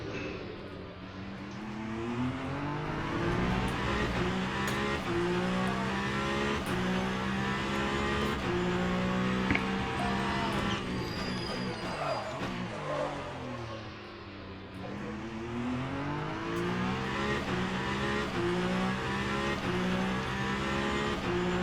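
Race car in Le Mans Ultimate at Spa-Francorchamps, engine screaming through rising and falling gear sweeps with tires scrubbing and squealing, loud and continuous from the cockpit throughout.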